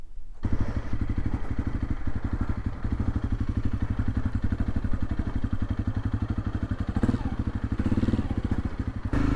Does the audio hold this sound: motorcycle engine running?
yes